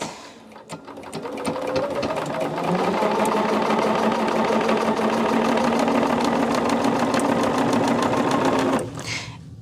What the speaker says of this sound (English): I just move it over here to my sewing machine. And the first thing I do, I start on the long edge again